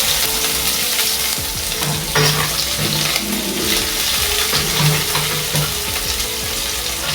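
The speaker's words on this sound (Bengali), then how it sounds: "আমি 4 থেকে 5 মিনিট পেঁয়াজটাকে লাল করে ভেজে নেব" Chopped onions fry in a pan over a medium gas flame, a loud, steady sizzle with occasional clinks and scrapes of stirring, no talk.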